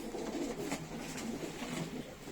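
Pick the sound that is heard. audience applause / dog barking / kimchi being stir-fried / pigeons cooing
pigeons cooing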